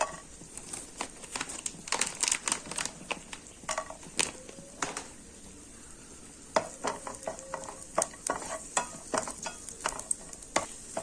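Cashews and raisins fry in ghee while being stirred, a soft sizzle under frequent close scraping and crinkly rustling strokes that come in irregular bursts, with no speech.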